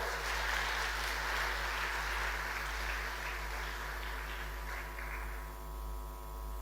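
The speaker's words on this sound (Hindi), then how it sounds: "इनके लिए फिर एक बार ताली बजाओ।" Faint applause from an audience at a Ladli Laxmi Utsav event in Madhya Pradesh, clapping for girls who sang the state anthem; the clapping runs about five seconds beneath a steady electrical hum, then dies away.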